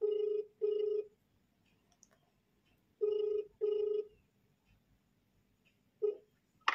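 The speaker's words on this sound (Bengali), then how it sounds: "রিং হচ্ছে।" Outgoing phone call ringback tone: short paired ring bursts repeating with quiet gaps between, clear and close, with no talking.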